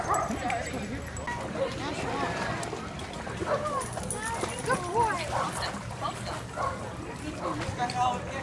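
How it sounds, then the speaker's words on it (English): Several dogs bark and yip at an outdoor dog swimming pool during a Pooch Plunge event in Greenbelt, with occasional whimpers amid a steady backdrop of people chatting and splashing crowd noise. "this pool is full of the bigger dogs"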